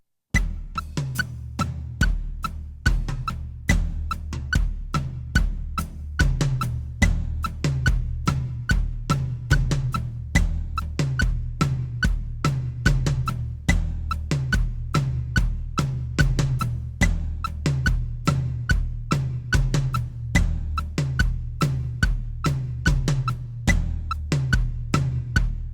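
Drum kit groove with a steady kick on quarter notes and light eighth notes on the floor tom, played alone at an even tempo with dense regular hits throughout, close and fairly loud.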